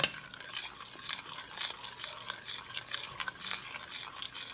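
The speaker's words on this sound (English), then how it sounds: "I'm just cooking away and stirring away here." Strawberry pie glaze thickening like jam in a pot is stirred in steady, rhythmic scraping strokes, close and moderately loud, with a faint bubbling beneath and no voices.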